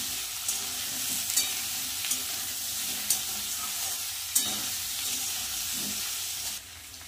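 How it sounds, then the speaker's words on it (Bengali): Boiled soybean chunks and potatoes frying together in a pan: a loud, continuous hissing sizzle with a few sharp spatula scrapes and clicks, ending with a slight drop in the hiss. "একসাথে আলু আর সোয়াবিন ভালো করে ভেজে নেব"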